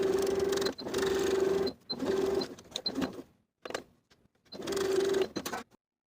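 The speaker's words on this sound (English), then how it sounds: "Then we're going to edge stitch from the bottom to the top along the folded edge." A sewing machine edge-stitches a plaid wool jacket placket along a folded edge, running in several steady whirring bursts of about a second each, separated by brief pauses and soft handling clicks, close and without talk.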